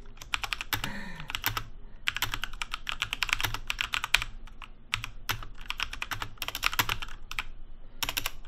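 Fast, continuous typing on a Rexus Legion mechanical keyboard with brown switches, heard close and steady. Dense bursts of key clacks run throughout with only brief pauses.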